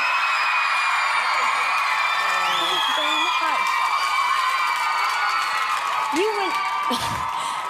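A large X Factor studio audience screaming and cheering for One Direction: a continuous high-pitched wall of shrieks and whoops that holds steady throughout, with a voice briefly speaking over the din.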